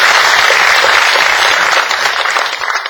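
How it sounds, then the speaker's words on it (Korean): Dense, sustained applause from an audience at a book concert commemorating President Roh Moo-hyun, loud and steady throughout before easing slightly near the end. "박수 한번 칠까요?"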